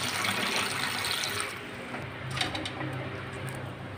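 Kitchen tap running steadily to collect cold water, a continuous close hiss and splash that softens and shifts in tone partway through, with faint clinks behind it.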